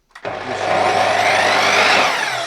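Einhell TC-MS 3017 T table mitre saw with a 305 mm blade switches on and spins up, its motor rising into a loud, steady whine that holds for a couple of seconds.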